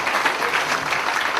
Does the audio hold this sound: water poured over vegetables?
no